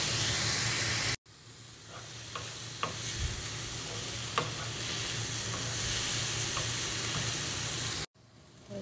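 Onion and tomato cubes frying in a pan, a steady close hiss and sizzle with occasional light clinks of stirring, broken by brief cuts at the start and end.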